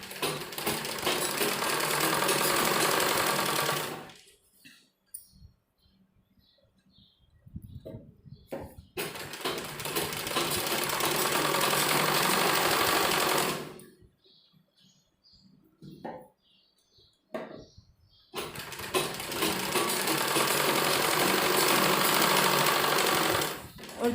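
Bursts of a sewing machine stitching a frock's bell sleeve, three long whirring runs of several seconds each, separated by quieter pauses with small handling noises.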